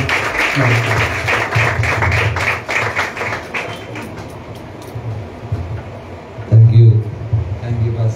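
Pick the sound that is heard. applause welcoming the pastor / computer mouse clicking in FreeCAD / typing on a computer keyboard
applause welcoming the pastor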